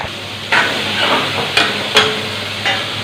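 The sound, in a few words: tempering ingredients in hot oil, sizzling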